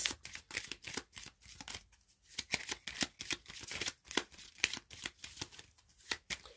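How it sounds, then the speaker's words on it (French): Lenormand and Charms cards shuffled and drawn by hand, a close, rhythmic series of crisp riffling bursts with brief pauses between them, no talking. "Je vais tirer les cartes du Lenormand et des Charms."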